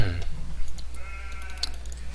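Sheep bleating in Age of Empires II during a 4v4 Black Forest match, short high bleats over game ambience with a brief voice near the start.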